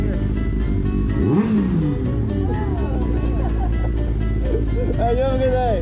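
A dirt bike engine drones loudly and close with rising and falling revs, mixed with other vehicle noise and people talking over it.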